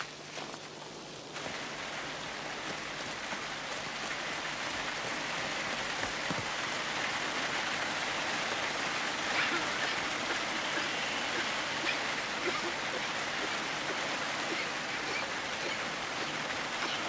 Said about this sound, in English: But not in this rain.